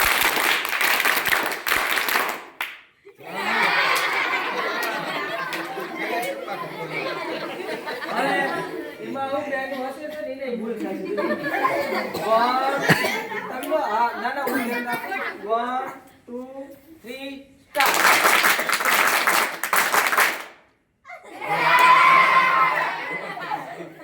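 A group of children plays a clapping game, with bursts of rhythmic hand claps mixed with shouting, chatter and cheering from a lively crowd, broken by brief pauses and a speaking voice.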